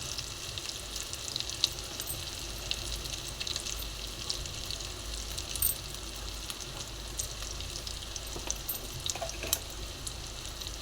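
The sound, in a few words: ginger frying in a pan for egg curry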